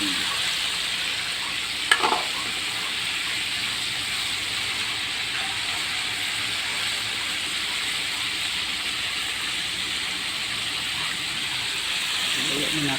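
Chicken deep-frying in oil over a wood fire gives a steady, loud, hissing sizzle throughout, with a brief clatter near the start and a slight swell at the end.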